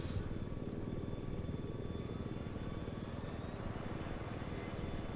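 Attack helicopter in the video game Battlefield 4, a steady low rotor thrum and engine drone running continuously at a fairly quiet level.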